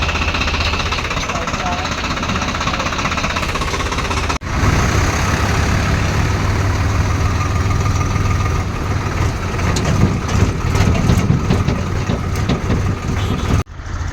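A tractor engine runs at night during trips, its loud, continuous diesel rumble and rattle steady throughout, with a short break near the start and another near the end; a voice talks over the engine noise.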